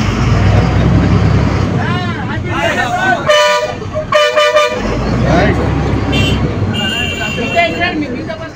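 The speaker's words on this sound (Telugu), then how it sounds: "Prakash Reddy sir bus నడుపుతుంటే" Horn honks from a new electric RTC bus driven by a local MLA at Parakala in Hanumakonda district, sounding in a few short tonal blasts over loud, continuous talk and street noise.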